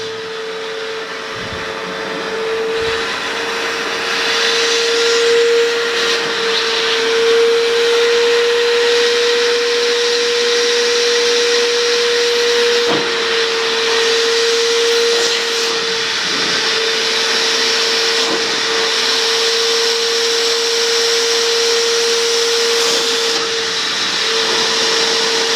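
Steady, loud vacuum cleaner suction with a constant whining tone runs through the whole stretch while cleaning a car's diesel particulate filter, with small bumps and knocks as the nozzle moves and no talking.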